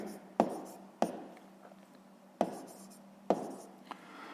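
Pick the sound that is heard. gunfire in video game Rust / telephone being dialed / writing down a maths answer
writing down a maths answer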